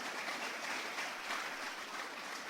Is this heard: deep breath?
no